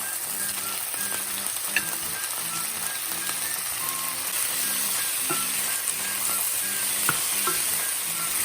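Vegetables sizzle and crackle steadily in a hot pan as they are stir-fried for a chicken suki stir fry, with occasional scrapes and clicks of stirring.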